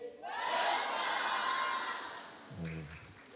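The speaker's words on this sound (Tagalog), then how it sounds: "Palakpakan natin and give them the welcome of CCFI." A church congregation at a Christian Church Fellowship International service claps and cheers in welcome, a loud, dense burst of crowd noise that swells for about two seconds and then fades as a voice starts speaking.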